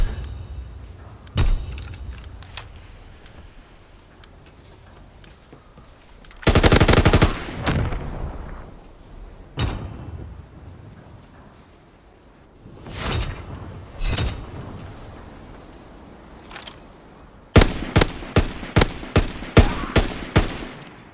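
An MG15 machine gun fires in a combat video game: several separate loud bursts spaced out over the scene, ending in a rapid string of sharp shots, with quiet ambience between bursts.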